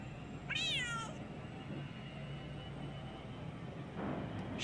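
A cat gives one drawn-out, rising-and-falling meow near the start, then stays quiet over a steady low indoor hum with a faint stir near the end.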